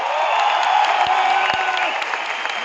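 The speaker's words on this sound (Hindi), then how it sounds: "एक बार जोरदार तालियां" Audience at an indoor award event clapping and cheering in a steady, dense burst, with a few sharp thumps standing out from the continuous applause.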